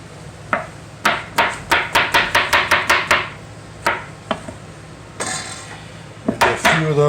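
Knife cutting zucchini squash into pieces on a board, a quick run of a dozen sharp rhythmic chops, then scattered single cuts with a pause, close and fairly loud.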